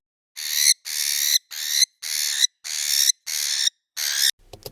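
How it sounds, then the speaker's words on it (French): A parakeet call, slowed down and reversed, becomes seven even, drawn-out hooting notes with a steady rhythm, close and fairly loud, followed by a faint low rumble at the end. "J'ai trouvé un son de perruche."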